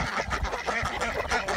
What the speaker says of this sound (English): here's where our geese and stuff are